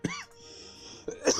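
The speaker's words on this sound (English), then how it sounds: "Oh my gosh, I'm coughing." A single sharp cough burst at the start, then a quiet stretch with faint background tone, followed by another loud, rough cough or throat-clearing near the end.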